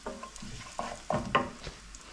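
Cumin and nigella seeds frying with onions in a pan for loki bhaji, with soft sizzling and a few distinct stirring scrapes and clinks, quiet and close.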